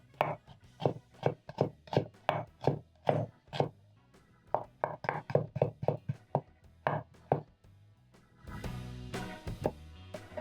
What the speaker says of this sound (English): Finely dice my onion.